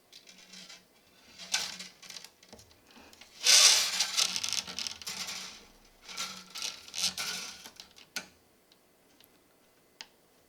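A fresh D'Addario string threaded through the tuning peg of a Crafter SGA-008/N acoustic guitar, close ticking and rubbing scrapes in short bursts with quiet pauses between, no talking.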